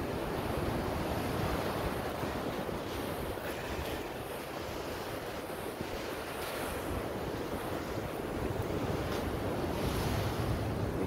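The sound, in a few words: waves on the shore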